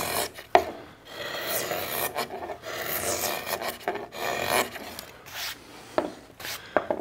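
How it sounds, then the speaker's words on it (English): Big gouge roughing out the inside of an arched archtop guitar plate, a steady wooden rasping and scraping in uneven strokes with a few sharp ticks, close and fairly quiet. "we're going to go back and rough with a big gouge"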